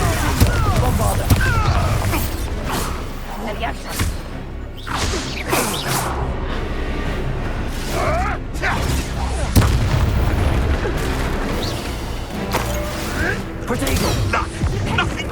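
Hogwarts Legacy combat with the Bombarda explosion spell: loud, dense booms, crashes and whooshing spell blasts in rapid succession over constant background music, with voices calling out amid the fighting.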